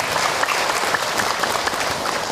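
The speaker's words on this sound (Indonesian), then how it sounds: "Tepuk tangan buat ibu yang bertanya." A seated audience at a religious talk applauds a woman who asked a question, with brisk, continuous clapping from a sizable crowd, fairly loud and close, filling the room without any speech over it.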